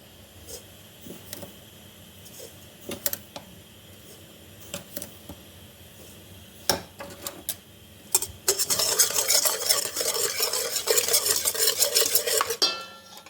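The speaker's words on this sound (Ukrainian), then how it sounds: "беру 4 яйця, додаю в нього 4 столові ложки цукру і перемішую" Scattered clinks and taps of a utensil against a bowl, then a few seconds of quick, continuous whisking and stirring of four eggs with sugar, close by.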